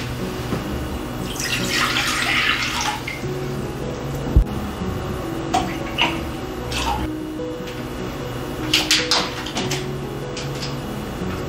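Water and milk for homemade bread dough are poured into a bowl, with a couple of splashing pours a few seconds apart over a quiet kitchen hum.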